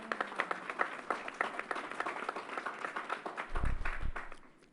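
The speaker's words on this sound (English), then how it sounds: "Let's give New York State a round of applause." An audience at Yankee Stadium claps in a dense, steady burst of applause lasting a few seconds, with a low thud near the end before it tapers off.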